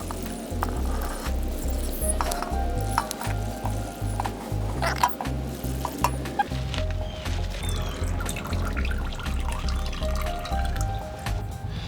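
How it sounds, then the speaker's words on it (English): Water pours steadily into a pot of LECA clay pebbles for a houseplant, a continuous gurgling trickle with low bubbling, close and fairly loud, with no voices. "And we'll water it."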